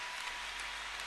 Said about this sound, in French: Est-ce qu'on peut acclamer très fort Jésus?